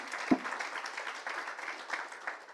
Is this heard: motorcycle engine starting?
no